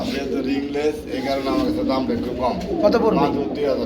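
Belgian-blood pigeons coo at a busy pigeon market, their low throaty calls running steadily beneath close conversational voices.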